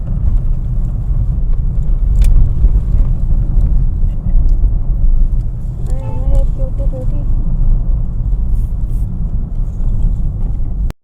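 A car rolls along the road to Mahabaleshwar, giving a loud, steady low rumble of engine and tyres throughout, with a brief faint tone in the middle and the sound cutting off abruptly at the end.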